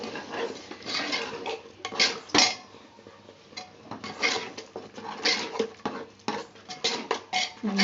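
Sweet pongal is stirred in a pot, a run of close, busy scraping and clinking of a spoon against metal that comes in uneven bursts and never settles.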